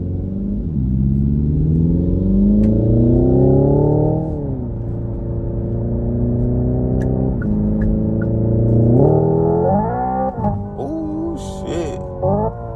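A 2025 Hyundai Ioniq 5 N electric car accelerates hard, its loud synthetic engine tone climbing in pitch through several simulated gear shifts, steady and close throughout with no talking.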